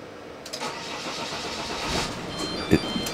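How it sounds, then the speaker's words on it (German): Engine of a Morelo Palace 90 LS motorhome cranks and catches at the start, then runs at a steady mid-pitched idle with a brief louder burst near the end; no talk over it. "Ja, einfach mal Motor laufen lassen."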